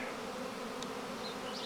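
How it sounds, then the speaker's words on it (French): Dozens of honeybees at the front of a hive, fanning their wings and calling after a swarm capture from a tree, form a steady, dense buzzing drone with a few faint higher tones, continuous and near. "Là on a quelques dizaines d'abeilles sur le devant de la ruche qui appellent"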